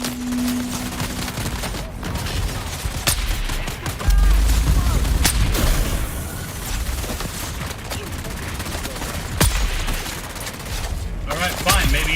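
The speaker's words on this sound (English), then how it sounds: "You do not get to shoot me with that." Gunfire in the desert survival game Dune Awakening cracks toward the player in rapid volleys and single sharp shots, loud and close, with a heavy burst around the middle and a voice talking over it.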